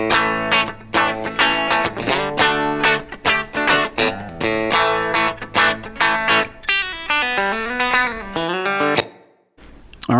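Clean electric guitar, a Telecaster into a Fender Deluxe tube amp with a tad of reverb, strummed chords and picked single notes in a lively rhythm, ringing out before a short silence.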